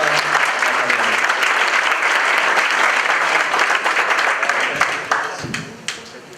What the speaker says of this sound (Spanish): Gracias a todos, un aplauso